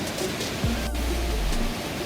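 Bidulginang waterfall pouring into a deep basalt canyon, a steady broad rush of falling water heard close and continuous, with no voices.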